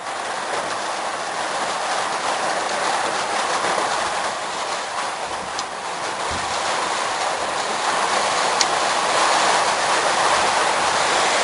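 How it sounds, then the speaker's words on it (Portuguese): Heavy hail pours down during a strong storm in Rolândia, a loud, dense, unbroken hiss and clatter that holds steady throughout with no voices. "Cai granizo, muito granizo na cidade de Rolândia nesse momento."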